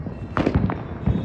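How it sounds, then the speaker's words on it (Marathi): Firecrackers burst during Uttarayan in Ahmedabad, a quick string of sharp pops and cracks, several in succession, moderately close and loud, with no talk. "पूर्ण अहमदाबादमध्ये पूर्ण फटाके फुटतातच आहेत बघा"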